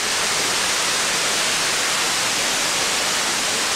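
Buracão waterfall in Brazil roars as a dense, steady wash of broadband noise, loud and unbroken throughout with no voices.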